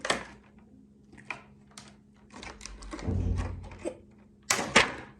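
Crunchy snipping and rustling of plastic packaging, with a few sharp cutting clicks and a louder crisp snip near the end, close by.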